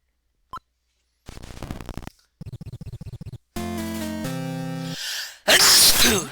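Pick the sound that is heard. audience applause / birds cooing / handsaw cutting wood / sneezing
sneezing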